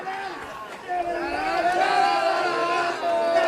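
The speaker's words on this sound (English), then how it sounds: "The Triabunna faithful cheering." Triabunna supporters cheer and shout at a country football grand final against Campbell Town, a dense, lively crowd roar that swells and holds steady, with whoops rising above the mass of voices.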